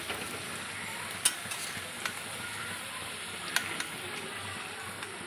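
Potatoes fry in a generous amount of oil for chicken kosa, giving a steady, fairly quiet sizzle with a few sharp clicks and taps of a utensil against the pan.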